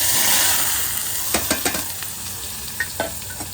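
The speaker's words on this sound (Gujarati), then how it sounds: "આપણે ભીંડાનો વઘાર કરી નાખીએ મસ્ત" Chopped okra is tempered in hot oil, a loud steady sizzle followed by clacking stirs and scrapes of a spoon in the pan.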